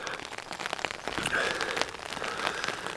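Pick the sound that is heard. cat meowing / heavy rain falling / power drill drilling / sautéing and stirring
heavy rain falling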